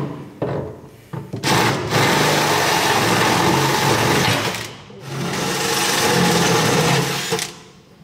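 A drill with a 10mm bit bores through aluminium boat plate: two long, loud, steady whirring runs with a short start before them, separated by a brief pause, close up.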